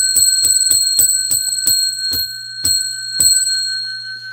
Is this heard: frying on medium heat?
no